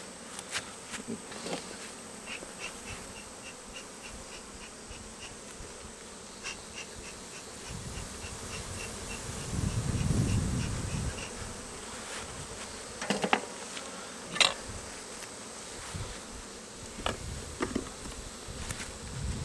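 Honey bees swarm around an open beehive with a honey-filled bottom brood box, a dense, continuous buzzing close by, with a swell of heavier low rumbling midway and scattered soft knocks.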